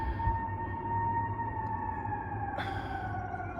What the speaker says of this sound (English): Oh, sorry about the siren, man.